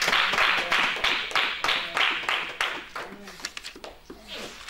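A worship congregation claps in acclamation, loud rhythmic group clapping in steady bursts that thin out into scattered claps toward the end, with voices underneath.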